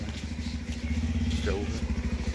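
A motorcycle rides along a road with a steady, close engine rumble that pulses and grows slightly louder toward the end, with a faint voice in the background.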